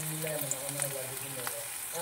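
Chopped onion and garlic fry in hot oil with a soft, continuous sizzle under a person's speech.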